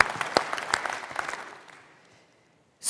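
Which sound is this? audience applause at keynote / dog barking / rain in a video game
audience applause at keynote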